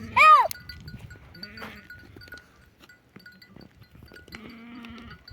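A goat bleats loudly once near the start, followed by a faint clink and quieter animal sounds, with more bleating toward the end.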